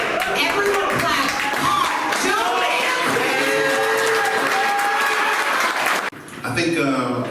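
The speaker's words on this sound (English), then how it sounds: "Everyone clap." An audience claps and cheers at a Joe Freshgoods x New Balance sneaker exhibition, with steady clapping and some whoops mixed with voices talking and calling out throughout, briefly dipping near the end.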